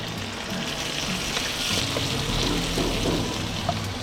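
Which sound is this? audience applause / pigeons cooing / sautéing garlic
sautéing garlic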